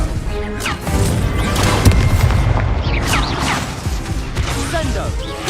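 Confringo blast spells explode in the Hogwarts Legacy video game, a loud run of booming, crashing impacts in close succession with voices in the mix.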